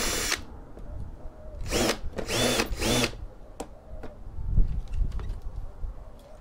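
A power drill whirs in several short bursts while unscrewing screws from an Apple iMac A1225, loud and close, with clicks and handling clatter between the runs and no speech.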